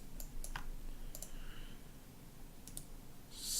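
Computer mouse clicks while modeling a bullet in Cinema 4D: a few sharp, faint clicks in small clusters over a quiet room hiss, close and isolated, with no talking.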